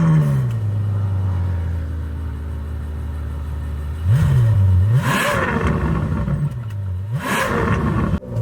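Ferrari F12 Berlinetta with a naturally aspirated engine, a loud close idle followed by two sharp throttle blips that rise and fall, each with a bright rasping edge, heard alone without talk.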